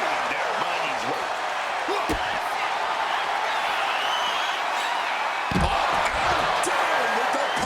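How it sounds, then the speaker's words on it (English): A packed arena crowd roars nonstop during a men's division wrestling match in WWE 2K26, a steady wall of cheering with a couple of heavy thuds breaking through near the start and end. "this crowd is loving it"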